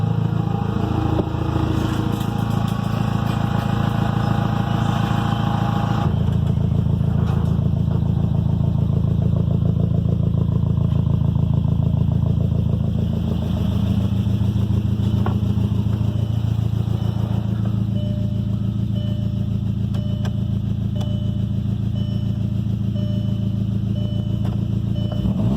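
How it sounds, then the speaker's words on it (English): Engine freshly back together after cylinder head work idles steadily, a close, continuous mechanical drone with light clatter that settles slightly lower partway through. "Like fresh engine running."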